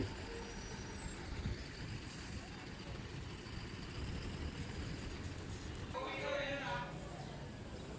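KSRTC/NWKRTC bus at the Shiggaon bus stand in Karnataka, with a steady engine rumble and busy station noise throughout and a brief air-brake hiss near the end, while people talk in the background.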